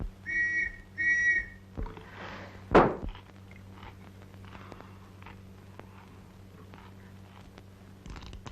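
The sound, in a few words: whistle blowing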